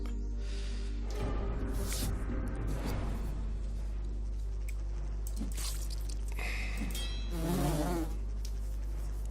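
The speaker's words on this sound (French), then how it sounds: "Alors ici on a un gros groupe de guêpes." Insect-like buzzing of a large swarm of wasps in the fantasy role-playing game Lords of Xulima, a steady drone over a constant low game hum, with brief swelling bursts near the start and toward the end.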